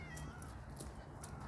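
A cat meows faintly outdoors beside a watercourse footpath in Telford, soft and somewhat distant against low background noise.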